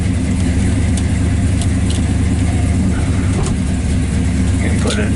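A 1963 Dodge Ramcharger clone with auxiliary gauges runs steadily nearby at Laguna Beach, California, its engine rumbling loudly throughout, with faint clicks and thumps over it.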